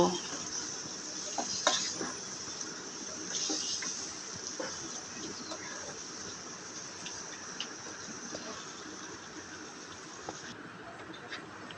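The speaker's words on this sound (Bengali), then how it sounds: "মশলাটা কষানো হয়ে গেলে মাংসগুলোকে দিয়ে দেব। দিয়ে এবার মশলার সাথে ভালোভাবে মিশিয়ে নেব।" Beef pieces fry in a spice paste for Bangladeshi beef tehari, with a soft, steady sizzle and occasional clicks and scrapes of stirring, under a faint background voice.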